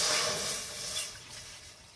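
Water poured into a cooking pot during village-style biryani preparation, a hissing splash that starts strong and gradually thins and fades over two seconds.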